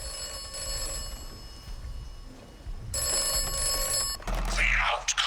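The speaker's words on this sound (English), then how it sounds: "The nearby phone box was ringing" A phone box rings in the video game Atomfall, with bursts of a bright electronic bell over a low ambient hum. A louder ring sounds near the end.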